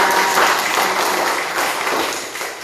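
A church congregation at a Pentecost Sunday worship service applauds the choir, a steady, fairly loud patter of many hands clapping in a large room, easing off slightly at the close.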